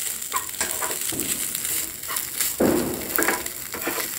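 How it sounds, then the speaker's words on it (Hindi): Poha being stirred in ghee in a pan, with a soft steady sizzle and scraping strokes repeating through the clip at close range, no talking. "1-2 मिनट ऐसे ही मैं पोहे को मिक्स करते रहूँगी"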